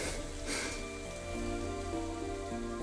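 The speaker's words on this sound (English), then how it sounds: "僕も雨の音は嫌いじゃないけど、ずっと聞き続けていると気がめいる。" Steady rain falls in the video game Psychedelica of the Black, a soft even hiss that stays constant throughout, mixed with a low sustained musical drone and no voices.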